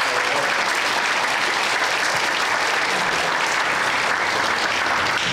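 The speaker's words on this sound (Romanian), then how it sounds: "putem să-i aplaudăm" Conference audience applauds in a steady, dense wash of many hands clapping, loud and continuous throughout without any break or pause.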